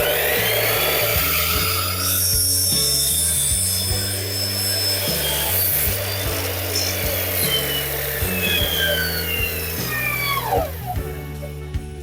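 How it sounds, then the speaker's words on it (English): A power saw cuts wood against a stop block, a loud, close, sustained whine that holds for about ten seconds, then winds down as the blade slows to a stop. "when making cuts with a stop block, make sure the saw blade stops completely before you lift the blade after the cut"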